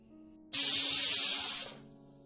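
A burst of pressure cooker steam hisses out loud and steady for about a second before cutting off, with no whistle tone audible; the cooker is cooking rice for sweet pongal.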